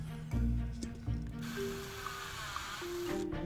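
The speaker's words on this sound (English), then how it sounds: "Going with the 1/4 inch bit now to gently and carefully finish the hole." A 1/4 inch bit drilling a hole in a prop kit part, a close mechanical whir with a low steady hum that shifts pitch, broken by short bursts and clicks, with no voices.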